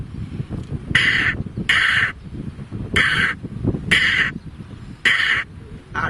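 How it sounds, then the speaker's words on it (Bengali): A house crow caws loudly and nearby in five harsh, evenly spaced calls, each lasting under a second, over a low murmur of background noise. "পাতি কাক ডাকে ঠিক এভাবে"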